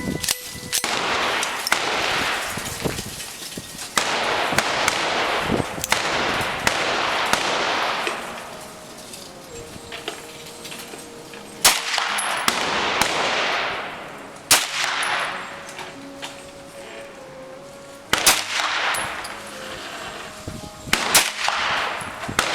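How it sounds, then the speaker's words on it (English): A TNW ASR rifle fires at an outdoor range: loud sharp cracks, some single and some in quick strings, each with a long ringing echo, separated by short quiet gaps. "we'll go ahead and keep shooting"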